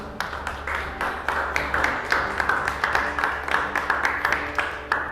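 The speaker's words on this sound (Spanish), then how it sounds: "Da un fuerte aplauso." An audience in a church service claps in a steady, regular rhythm, dozens of sharp claps in quick succession for about five seconds, with no talking.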